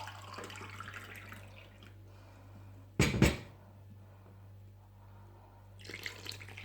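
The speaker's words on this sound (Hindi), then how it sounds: "इसी कप में मैं पानी ले लेती हूँ।" Warm water from a kettle is poured into a cup in a home kitchen while making bread dough, heard as a single short, close splash amid otherwise quiet surroundings.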